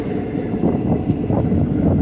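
A train running on a single-track line near Almatti, a loud steady low rumble with faint rhythmic clatter throughout and some wind buffeting.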